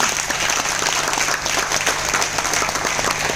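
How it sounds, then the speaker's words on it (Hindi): Loud, dense applause from a large crowd, steady clapping filling the whole stretch without pause. "एक बार जोरदार तालियां"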